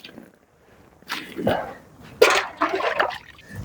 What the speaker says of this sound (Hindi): इसको पानी डाल के साफ करना है